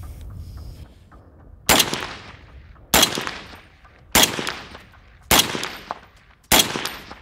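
A suppressed HK MR762A1 rifle fires five loud, sharp shots at steady intervals of just over a second, each with a short decaying tail.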